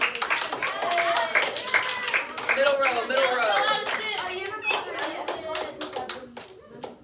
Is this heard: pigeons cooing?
no